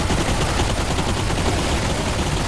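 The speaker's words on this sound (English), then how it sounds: "and then shoot him" Gunfire in the VR shooter Bulletstorm VR, a dense, loud, continuous burst of rapid shots and impacts filling the whole moment with no talk.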